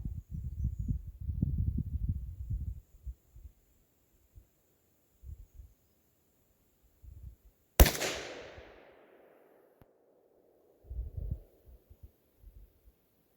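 One sharp, loud gunshot from a Savage 93G .22 Magnum rifle firing CCI or Hornady ammo outdoors, leaving a fading tail. Low muffled thumps and handling noises come before and after it.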